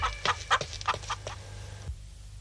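A rooster in a Javanese folk tale of Roro Jonggrang and the Prambanan temples gives a series of quick clucking calls followed by a short crow-like cry, close and moderately loud, then quiet.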